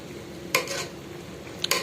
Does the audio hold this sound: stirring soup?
yes